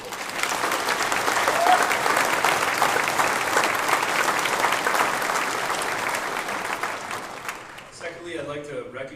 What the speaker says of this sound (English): So I'd like to give one more round of applause for Todd and Jody.